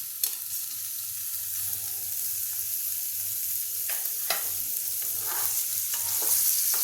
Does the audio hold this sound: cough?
no